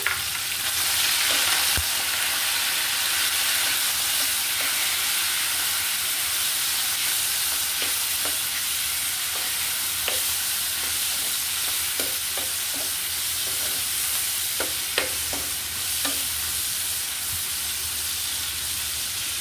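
Garlic and onion fry in oil in a pan for kochu shak with dried shrimp, a steady close sizzle broken by repeated spatula scrapes and taps, with no talking.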